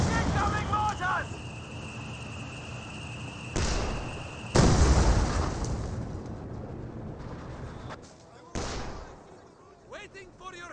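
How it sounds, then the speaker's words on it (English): A mortar barrage in the strategy game Company of Heroes 2, with several heavy booming impacts spaced a few seconds apart, each decaying into rumble over steady battlefield noise, and a voice briefly heard. "You got the timed mortar barrage to hit the HQ"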